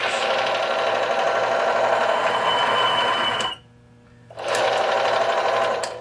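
Loud, steady mechanical grinding whine with a harsh metallic edge from a bearing being damaged under about 3 to 4 pounds of load, briefly dropping off for a moment before resuming just as strong.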